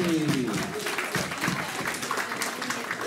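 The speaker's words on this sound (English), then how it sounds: "Can we have a round of applause," Audience applause at a comic con cosplay contest in Cleethorpes, a steady wash of clapping from a crowd lasting a few seconds, with a faint voice briefly audible at the start.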